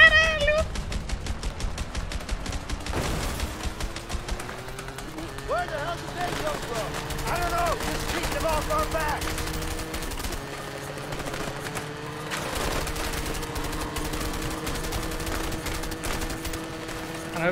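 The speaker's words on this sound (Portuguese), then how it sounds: "Essa porra não atira direito essa arma" Rapid bursts of gunfire from a gun in the video game A Way Out, dense crackling volleys early on, then scattered shots over a busy game soundscape, with voices talking throughout.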